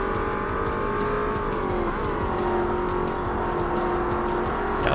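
Race cars roar in a Forza Motorsport endurance race, a fast TVR closing in from behind; a steady loud engine drone with shifting pitch and brief tire squeal, no talk.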